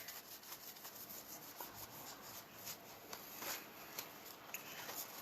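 A tarot card deck is shuffled by hand, a quiet, close, continuous papery rubbing and riffling with small irregular ticks, faint and alone.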